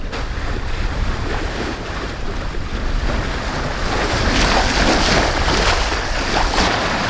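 Wind and waves while sailing to Nassau in the Bahamas at about five knots, a steady broadband rush of surf and wind noise on the microphone, loud and continuous throughout with no talk.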